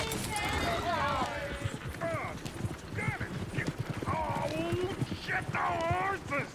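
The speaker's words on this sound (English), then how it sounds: "Shit, the horses! Damn horses!" Horses in the Red Dead Redemption 2 video game clop their hooves rhythmically while several people talk and shout over them, with a brief whinny and some mechanical creaking mixed in.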